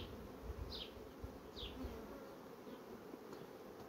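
Honeybees humming around a hive being split into an artificial swarm, a soft steady buzz with a few individual bees passing close by, faint and continuous, with no voices.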